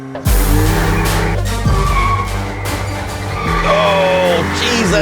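A 245 kW Audi S3 launching hard off the line in a drag race against an Omoda C9, with loud tyre squeal and a roaring engine climbing through the revs, very close and sustained, with a voice briefly heard.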